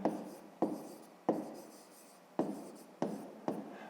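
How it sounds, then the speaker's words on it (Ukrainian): A pen writing on paper in short strokes, about six separate scratchy bursts, each starting sharply and trailing off, close and quiet, with no talking. "Пишемо в дужках години"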